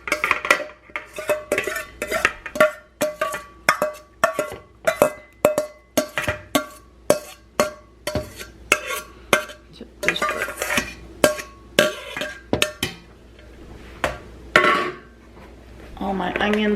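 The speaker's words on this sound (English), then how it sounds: "All my onions and my peppers in the pot." Onions and peppers dropped into a pot on a gas stove: a long run of rhythmic metallic clanks and clinks, like a utensil knocking against the pot, steady for most of the time, then sparser knocks as it winds down.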